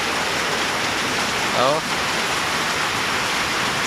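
Steady, dense hiss of rain falling throughout, with a brief spoken exclamation partway through.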